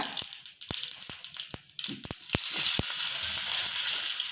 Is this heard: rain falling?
no